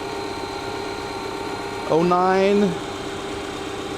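A BMW X6 engine idles with a steady, even hum throughout, while a person briefly speaks over it partway through.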